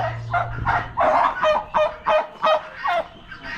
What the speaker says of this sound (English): We got some turkeys.